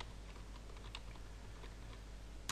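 Fingers tap on a computer keyboard during a Windows 8 setup, a few scattered, fairly faint key presses with a sharper clack at the end over a low background hum, with no voices.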